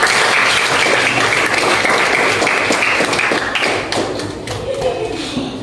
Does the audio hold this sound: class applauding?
yes